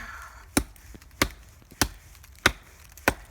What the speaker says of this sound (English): Good chopping